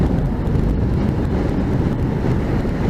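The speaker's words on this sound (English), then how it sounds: "A little bit blowy today" Wind gusting outdoors on a cool, blowy day, buffeting a microphone with loud, continuous low rumble and no voices.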